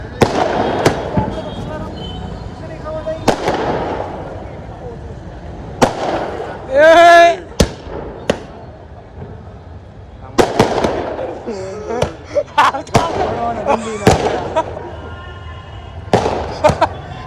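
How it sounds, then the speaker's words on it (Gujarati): Diwali firecrackers burst in sharp repeated bangs at irregular intervals, one whistling rocket screeching midway, with people talking and shouting around them. "ફટાકડા ફોડી ગયા"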